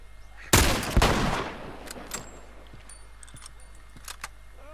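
A single loud rifle shot from The Last of Us, close and sharp with a decaying tail, followed by a few faint clicks and small impacts.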